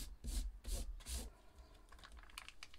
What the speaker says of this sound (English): So rub it on like that.